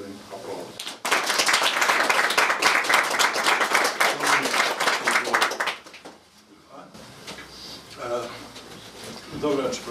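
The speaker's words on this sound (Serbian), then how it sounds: "ja ću da vas zamolim da ih jednog i drugog pozdravimo jednim aplauzom" Audience at a book promotion evening breaks into dense clapping for about five seconds, loud and sustained, then fades into a quiet room with a voice starting to speak.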